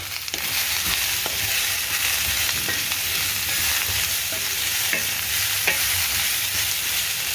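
Ivy gourd fries with a little salt in a pan and is stirred, a steady sizzle broken by scraping and clicking strokes of the spoon, with no talk.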